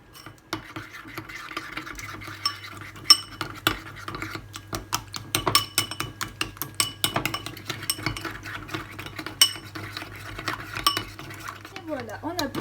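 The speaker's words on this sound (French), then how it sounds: "on prend un peu de farine, on y ajoute de l'eau et on mélange" A utensil clinks and scrapes steadily against a bowl while stirring a flour and water mixture for Algerian chorba soup, with a quick run of rhythmic taps, close and moderately loud, no talking.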